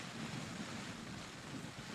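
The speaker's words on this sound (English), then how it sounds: "It's pouring with rain." Heavy rain pouring onto a Scottish sea loch, a steady dense hiss of downpour with a low rumbling undertone and no voices.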